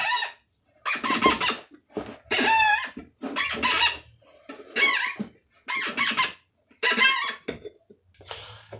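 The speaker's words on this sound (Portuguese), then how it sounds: "vou colocar para vocês verem o rangido" Repeated high-pitched squeaks from a worn power steering box on a Chevrolet Blazer or S10 as the wheel is turned, in short bursts, about eight in a row with brief gaps, loud and close, with no talking.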